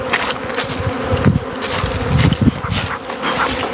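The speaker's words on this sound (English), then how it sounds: "I shook some of the bees off." Honeybees swarm around an opened hive frame, a dense steady buzz that stays close and loud, with a few sharper passes near the 1.3 and 2.5 second marks. Nobody speaks.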